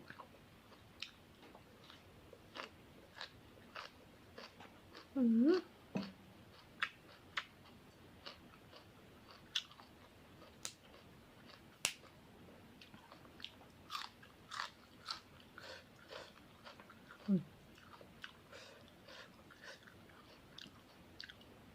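Faint crunchy chewing of peanuts, a string of small sharp crackles and bites spread across a quiet room, with a few louder thumps.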